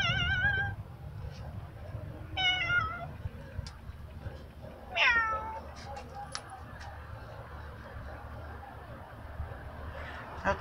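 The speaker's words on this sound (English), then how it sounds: "You wanted to say meow?" A cat meows three times, drawn-out and wavering, over low background noise and rustling handling sounds.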